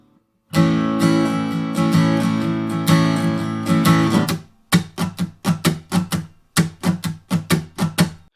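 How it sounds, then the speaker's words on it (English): An acoustic guitar strums sustained chords, then switches to crisp, choppy muted strums in a bouncy repeating rhythm; no talking. "The strum pattern isn't anything difficult, and it sounds like this."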